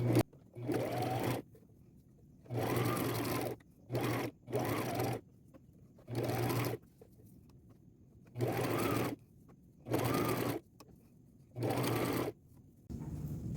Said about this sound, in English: And I'm using a zigzag stitch.